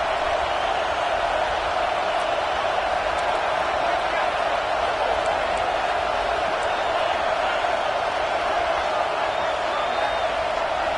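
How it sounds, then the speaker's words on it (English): A football stadium crowd swelling into a broad, steady roar that holds at an even level throughout, with a commentator talking over it. "This crowd rising up, sensing that its defense needs some help."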